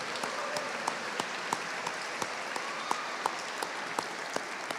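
Rally attendees at a State House gathering clap for thanked representatives, a soft, steady wash of applause with a few sharper individual claps standing out at irregular intervals, heard from some distance.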